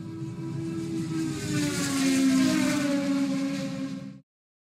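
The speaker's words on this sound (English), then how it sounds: "Formula One car." A Formula One car's high, loud engine whir roars steadily, its pitch shifting slightly as it swells, then cuts off abruptly into silence.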